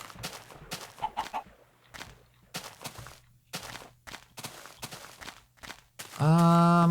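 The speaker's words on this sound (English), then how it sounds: "Hello, chicken." Chickens in the Minecraft game cluck in short, repeated bursts with footstep-like taps, moderately loud, before a sustained harmonic tone takes over at the end.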